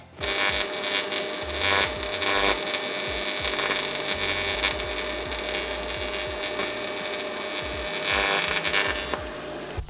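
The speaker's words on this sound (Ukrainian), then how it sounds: "Ми можемо переходити до зварювання алюмінію" An aluminium seam being laid with a Dnipro-M TG-20D AC/DC TIG welder, giving a loud, steady buzzing hiss that runs almost without a break for about nine seconds, then cuts off near the end.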